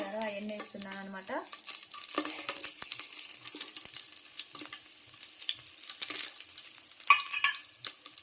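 Whole cloves, cinnamon stick, peppercorns and shahi jeera drop into hot ghee and oil for biryani, giving a steady close sizzle and crackle with scraping stirs throughout.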